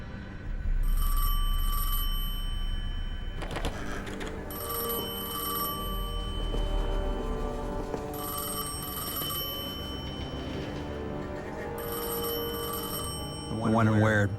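An old telephone rings in the video game Destiny 2, repeated bursts of trilling bell tones in a regular pattern over a low ambient hum, with a brief tonal musical swell near the end.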